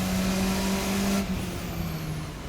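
Formula RSS 4 open-wheel race car in a racing sim holding full revs near its 6250 rpm red line, a loud steady engine drone that drops off and settles lower partway through, with no talk.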